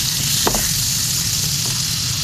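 Prawns coated in corn flour fry in melted butter, a loud, steady sizzle and hiss that fills the whole stretch, with a brief sharper crackle near the start and no talking.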